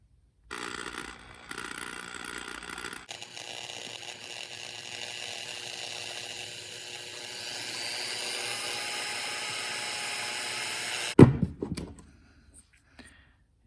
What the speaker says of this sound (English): I'm afraid of this drill busting this wood.